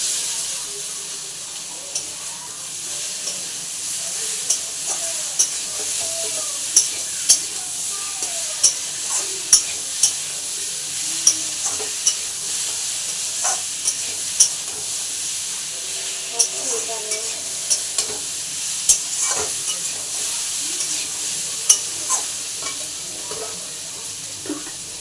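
Ol (yam) and potatoes with salt and turmeric sautéing in a pan, a soft continuous sizzle and hiss broken by regular sharp taps and scrapes of stirring, close and alone.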